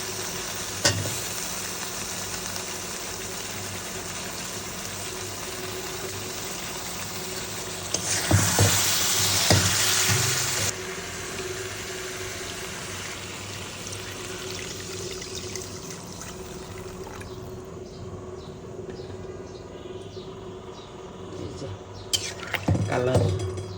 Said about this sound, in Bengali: ঝোল দেবো বন্ধুরা।